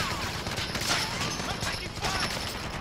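Rapid AK rifle fire in a multiplayer shooter game rattles in dense, continuous bursts, loud and close, layered with game effects and faint overlapping voices.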